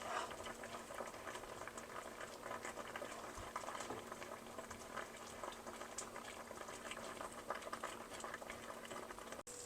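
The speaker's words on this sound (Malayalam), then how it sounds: "നന്നായിട്ട് തിളയ്ക്കുന്നുണ്ട് കേട്ടോ തിളച്ച് പറ്റട്ടെ" Fish curry gravy made with thick coconut milk bubbles at a low, continuous simmer, a soft dense patter of popping bubbles held close and steady throughout, with no talking.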